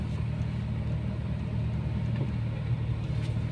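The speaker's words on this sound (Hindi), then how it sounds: "देखो धीरे धीरे धीरे धीरे क्लच छोड़ रहा हूँ और देखो गाड़ी आगे चलने लग गई" A car moves off slowly as the clutch is gently released, a steady low engine rumble and drone holding close and even throughout with no talk.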